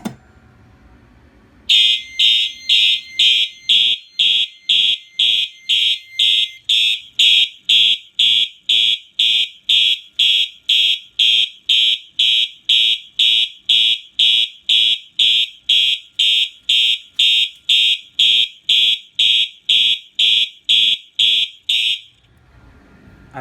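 A coded fire alarm on one notification circuit sounds during an alarm system test, a loud rapid train of evenly spaced shrill pulses that starts abruptly and runs steadily for about twenty seconds, then stops.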